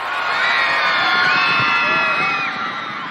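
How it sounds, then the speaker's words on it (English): Large concert crowd of girls screaming and cheering continuously, loud and close, with high-pitched shrieks and whoops layered over a dense roar for the whole stretch. "Girls screaming at a concert and not for somebody else."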